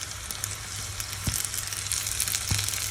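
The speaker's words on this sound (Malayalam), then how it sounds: "ഇനി വേറൊരു ചെറിയ പാനിൽ അല്പം നെയ്യ് ഒഴിച്ച് നെയ്യ് ചൂടായി കഴിയുമ്പോൾ ഉള്ളിയും" Onion and curry leaves frying in hot ghee in a small pan give a steady, close crackling sizzle, with a couple of sharper pops standing out above it.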